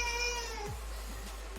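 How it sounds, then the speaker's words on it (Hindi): A baby cries faintly in the distance at a pig farm, one thin wavering wail that fades out over a steady low hum. "ये बेबी के रोने की आवाज़ है।"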